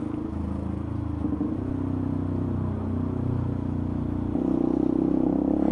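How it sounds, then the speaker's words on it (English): Motorcycle engine drones steadily while riding a Benelli TNT 125 on a rainy road, with the rumble of passing vehicles blending in and shifting in pitch partway through, all fairly loud and continuous. "Another vehicle coming. Many vehicles."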